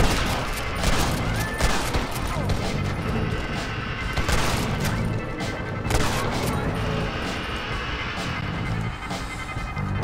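Sustained gunfire rages through a Red Dead Redemption: Undead Nightmare fight, dense rapid shots and crashing impacts rattling loudly and continuously throughout, with no let-up.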